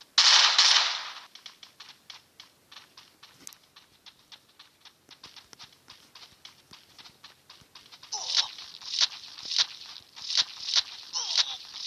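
Rapid automatic gunfire in the mobile battle royale game Free Fire Max: a dense opening burst, then long strings of quieter repeated shots, ending in louder rhythmic bursts; a voice occasionally talks over the shooting.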